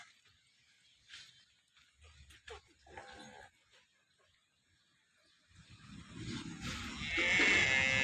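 Faint voices and scattered noises give way to a freshly calved local Banaskantha cow's long, low moo that swells loudly near the end, in Tharad, Gujarat.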